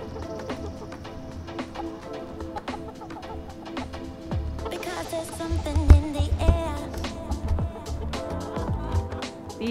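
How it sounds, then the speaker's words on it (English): Chickens cluck steadily close by, with occasional louder squawks, thumps and rustling mixed in. "These chickens are ready for breakfast"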